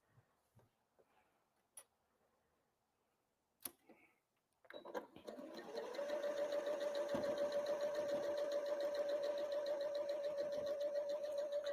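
A sewing machine stitching quilt pieces starts up after a few faint clicks and runs steadily at a constant hum and rapid ticking for about six seconds, close and alone.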